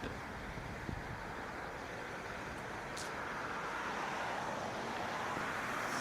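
Road traffic on Old Cutler Drive rushes past in a continuous broadband roar, heard from a shaded roadside walk, slightly swelling toward the end as vehicles pass, with no voices present.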